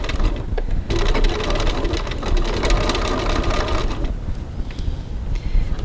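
A sewing machine runs at a lengthened 3.1 stitch length along the bottom edge of a zipper pocket on a cross-body bag, a loud, steady mechanical whir that briefly eases before continuing.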